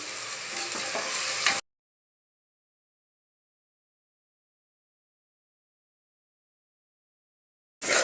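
Onions and tomatoes sautéing in a pan for mutton kuzhambu give a close, busy sizzle with stirring for about a second and a half, then silence, before the frying noise briefly returns at the end.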